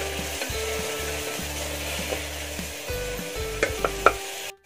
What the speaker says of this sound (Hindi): आलू को हम तब तक भूनेंगे जब तक कि ये तेल ना छोड़ दे